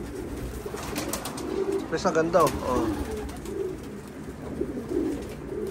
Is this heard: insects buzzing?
no